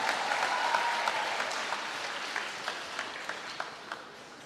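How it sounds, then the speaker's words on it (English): An audience at a state-level inter-school championship during an education festival claps for the contestants. The dense, steady applause fills the hall and slowly thins out, with scattered individual claps standing out toward the end. "Let's give them a big round of applause"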